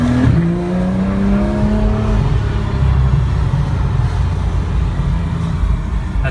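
A 2015 Porsche 911 GT3 engine accelerates hard from inside the car, a loud, steady high-revving roar with rising tone during a turn in traffic, no talk over it.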